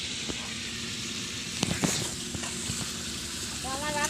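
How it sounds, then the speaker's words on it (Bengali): Chicken cooks in a pan at an outdoor garden picnic, a low steady sizzle with occasional clinks and stirring, while people talk and chatter nearby. "এই যে রান্না হচ্ছে চিকেন।"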